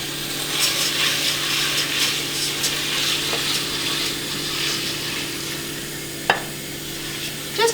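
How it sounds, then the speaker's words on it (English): Water runs and splashes as lentils are rinsed in a medium-sized pot, a steady close hiss with a sharp clink near the end. "I'm gonna put them in the medium-sized pot and we're gonna rinse that first."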